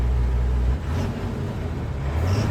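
A loaded vehicle driven by a mechanic gives a continuous close engine rumble with road noise, a heavier low drone at first that settles into a steady run, with no voices.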